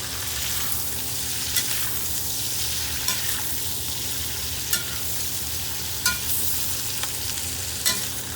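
Green beans seasoned with salt and coarse ground pepper sizzle steadily in a hot pan, with a constant frying hiss and a few sharp scrapes and clicks as they are stirred.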